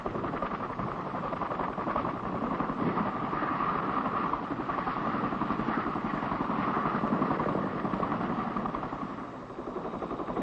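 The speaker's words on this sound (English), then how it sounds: "Army aviation personnel are familiar in a general way with the Chinook helicopter." A steady, loud rotor and turbine drone of a twin-turbine, tandem-rotor CH-47 Chinook helicopter fills the whole stretch, with constant thumping texture and no voices.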